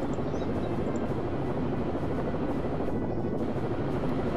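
Steady, loud rotor and engine roar of a helicopter in the video game Rainbow Six: Vegas 2, heard from inside the aircraft as a constant broadband drone with no talk over it.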